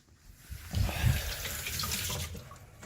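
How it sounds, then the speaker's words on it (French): Water sloshes and splashes in a full kitchen sink as fingers are rinsed in it, close by and moderately loud, with a brief swell of movement near the start and no voices over it. "C'est passionnant de me voir me rincer les doigts dans un évier qui est plein, c'est ça?"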